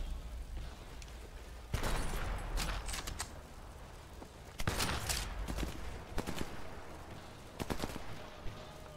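Enemy gunfire in the World War II shooter Sniper Elite 4 crackles in several loud, sharp bursts of rapid rifle and machine-gun shots, with quieter stretches of distant fire in between.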